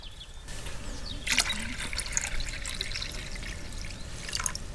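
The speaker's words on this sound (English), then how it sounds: "I'm going to use pints of water just to see how many pints it holds to get it up to max." Water pours in a steady splashing stream into an EcoFlow Glacier portable electric cooler, filled pint by pint, with bright gurgles and a brief pause before the flow resumes, close and alone.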